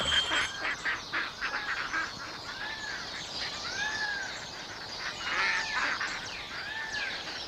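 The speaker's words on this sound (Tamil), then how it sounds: "ஆத்தி இது வாத்து கூட்டம்" A flock of ducks calls in a run of repeated honking, quacking notes that rise and fall over a steady hiss of background noise, with no voices over them.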